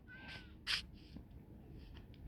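A cat in the Minecraft video game gives a single short, sharp meow over quiet game ambience, with faint other game sounds around it.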